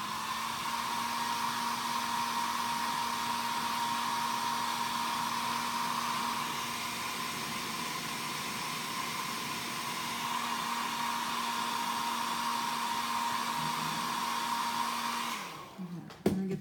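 A hair dryer runs steadily at close range, drying fresh paint on a Strike King Nude XD8 crankbait lure being painted Rayburn Red, with a constant whine and hum that cuts off near the end with a brief clatter.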